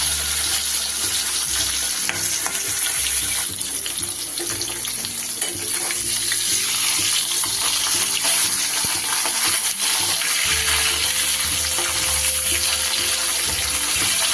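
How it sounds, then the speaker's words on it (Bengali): Parshe fish frying in a pan, a loud continuous sizzling hiss with crackles throughout, close up and with no talk. "মাছগুলো আমি এক এক করে ভেজে নিই।"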